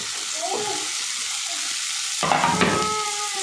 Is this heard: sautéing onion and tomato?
yes